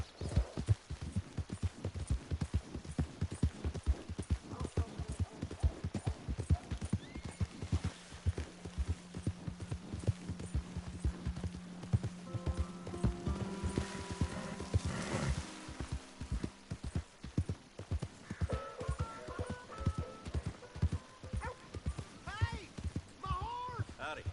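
Steady, rhythmic clip-clopping of horse hooves in the video game Red Dead Redemption 2 continues throughout at close range, with a low hum and brief voices partway through.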